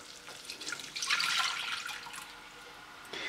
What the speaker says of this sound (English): next what I'm going to add is 1 3/4 of a cup of milk